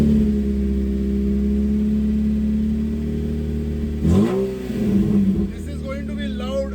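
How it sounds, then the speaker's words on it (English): A one-off mid-engined, rear-wheel-drive modified Suzuki Swift drift and autocross car idles in a steady, loud drone, then gives a sharp rev that rises and falls. Close and dominant, with someone speaking briefly near the end. "Turn the ignition on."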